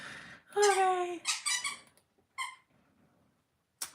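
Sustained high-pitched squeaks in a few bursts over about two seconds, fairly loud and close, then a quieter short squeak and a brief final burst, with some faint background noise.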